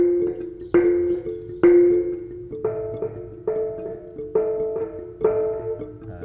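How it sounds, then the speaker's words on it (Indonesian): A bronze gamelan kenong is struck about eight times at an easy pace, each hit a bright metallic gong tone that rings and slowly fades, close and alone with no talking. "Tetapi yang jelas teman-teman paham dulu bahwa suaranya kenong itu seperti itu,"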